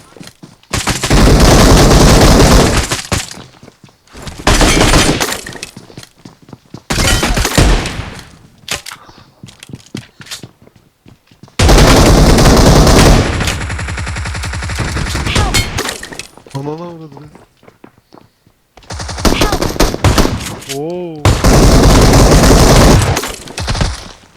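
Video game gunfire erupts in several long, loud bursts of rapid automatic shots with brief gaps, plus a few warbling electronic effects and some voices in between.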